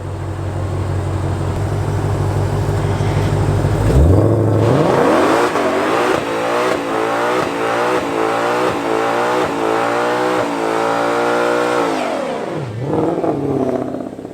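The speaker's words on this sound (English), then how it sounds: "Ken from Palm Beach Dyno is going to give us a little demo right here." A car engine on a dyno idles low, then revs hard and climbs in loud, rising surges before dropping back near the end, close and dominant with no talk.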